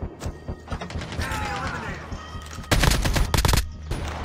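Gunfire in a squad-versus-duo battle video game: irregular mechanical clicks and shots build to a dense, loud burst of rapid automatic fire, with voices talking under the action.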